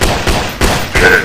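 Gunfire in a 3D mobile shooting game, four loud close synthetic shots fired in quick, evenly spaced succession, each a sharp burst that rings on briefly.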